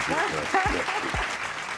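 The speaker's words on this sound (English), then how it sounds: "Clap it up, everybody in the back." Audience applause greets a guest being introduced, a steady broadband clatter of many hands lasting under two seconds, with voices talking over it.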